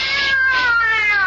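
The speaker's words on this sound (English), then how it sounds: "What's wrong with that cat?" A cat letting out a long, loud, drawn-out caterwauling meow, close and continuous, with a wavering whiny pitch throughout.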